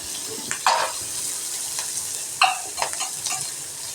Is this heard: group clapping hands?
no